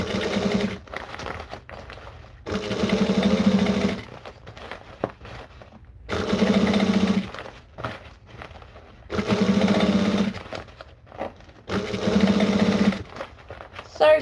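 A sewing machine top stitches a fabric drink bottle bag in four steady bursts of loud, even whirring, each a few seconds long, with quiet handling pauses between them.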